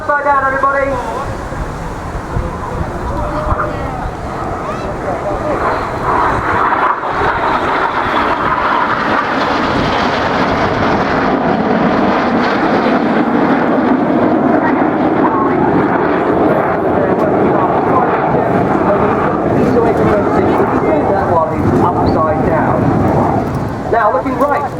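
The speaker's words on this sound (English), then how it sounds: "let's give the synchro pair a big wave as they fly past upside down" Red Arrows synchro pair jets flying past upside down at an airshow make a loud, sustained roar that swells and shifts as they pass, with a commentator talking over it throughout.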